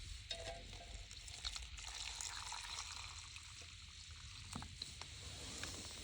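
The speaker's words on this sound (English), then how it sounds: "Add your hot water." Hot water trickles and pours into a cup of instant coffee, a faint steady splashing stream with light clinks, recorded close and quiet.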